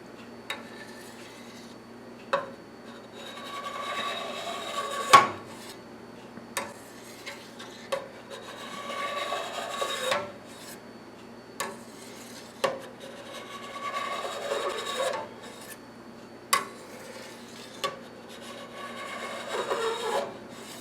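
A knife slices through set mozzarella curd in a pot, producing a series of soft scraping, rubbing strokes spaced every couple of seconds, each with a brief sharper tap, close and moderately quiet with no talking.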